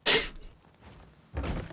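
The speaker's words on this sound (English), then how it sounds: "Trying to sneeze now." A single sharp sneeze bursts out at the start, followed by a faint pause and then a softer breathy exhalation, close and fairly quiet.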